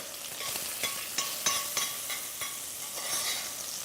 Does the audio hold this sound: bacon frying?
yes